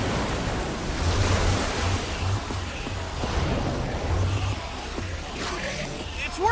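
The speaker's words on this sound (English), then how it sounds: "I don't know how much water this thing is gonna kick out" Water gushing and rushing out in the Minecraft Story Mode video game, a steady broad wash of flowing water with low rumble, continuous and fairly loud throughout.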